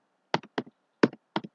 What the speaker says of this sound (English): you want to type it in now, so you start typing